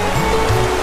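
Steady rushing water at Silver Falls, Oregon, a dense close wash of flowing water with no break across the brief moment.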